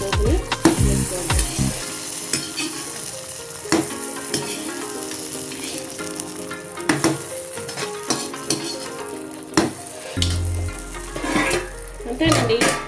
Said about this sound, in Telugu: ఇందులో చక్కగా మనం ఆ పోపుని వేసుకోవాలి.